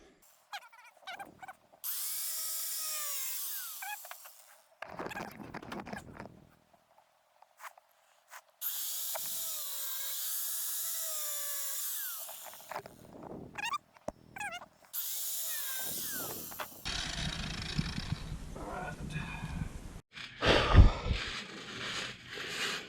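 A power tool grinds through stainless steel bolt heads in loud, sustained bursts of about three seconds each. Short pauses separate the cuts, and the final stretch turns into rougher, broadband scraping.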